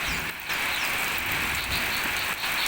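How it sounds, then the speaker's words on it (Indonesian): Heavy rain pours steadily in a dense, continuous hiss during a storm with strong wind and lightning, loud and close, without any voices. "disertai petir, hujan deras, angin lebat disertai petir"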